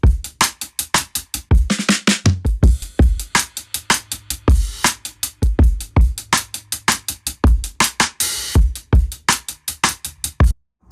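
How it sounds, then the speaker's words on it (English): A chopped drum break spliced with two drum fills plays as a loud, driving beat, with dense regular hits and quick rolling fills around the second and eighth seconds. "I went ahead and dropped in a drum break and 2 different drum fills and chopped them together."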